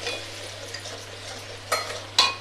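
Mustard and spices frying in a pan while being stirred, a soft steady sizzle with a low hum beneath and two sharp spoon scrapes near the end.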